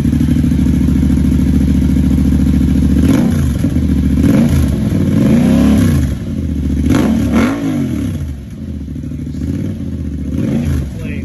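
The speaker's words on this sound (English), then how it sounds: "Brothers exhaust system installed." A 2022 Yamaha R7 sport bike fitted with a Brothers exhaust revs loudly up close, its engine rising and falling in repeated throttle blips over a strong, steady idle.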